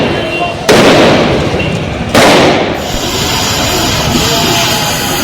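Two loud, sharp blasts about a second and a half apart during a street riot in Uttar Pradesh, India, each followed by a roaring rumble, with a noisy outdoor crowd behind them.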